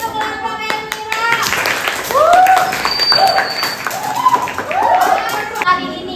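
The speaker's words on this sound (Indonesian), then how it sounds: "Kita kasih tepuk tangan" Classroom applause for a student group, scattered clapping from many hands mixed with children's voices and chatter, rising and falling over several seconds.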